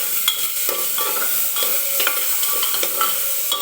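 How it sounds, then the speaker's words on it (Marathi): Tomatoes frying in oil, a continuous bright sizzle close up with light stirring taps throughout. "टोमॅटो सुद्धा आपल्याला व्यवस्थित तेलामध्ये भाजून घ्यायचं आहे."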